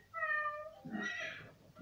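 A cat meows in a children's memory game, a single clear meow rising then falling, short and isolated against near silence.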